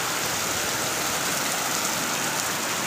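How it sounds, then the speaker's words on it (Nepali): Downpour of heavy rain during a Dashain holiday outing, a constant loud rushing hiss from nearby that holds steady throughout without any talking. "यति ठुलो पानी परेछ हेर्नु यहाँ।"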